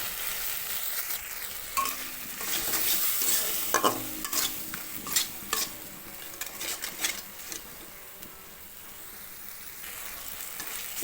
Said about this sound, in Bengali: মশলাটা আমি কষিয়ে নিয়েছি